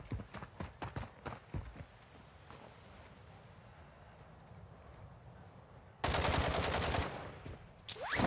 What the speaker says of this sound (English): Why is the bot shooting up in the air right there?